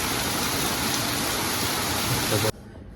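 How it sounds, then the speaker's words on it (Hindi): Heavy rain pours down in a loud, steady, dense hiss that cuts off abruptly near the end. "तो अभी बारिश भी होना स्टार्ट हो गया है और बहुत तेज़ बारिश हो रही है।"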